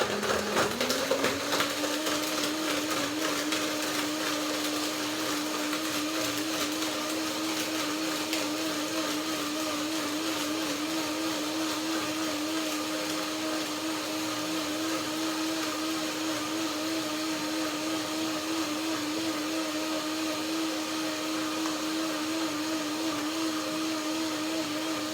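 A blender runs steadily at high speed for the full stretch, blending fruit with a small amount of water, a loud continuous motor whir that settles onto a constant pitch after a brief start-up, with no talking.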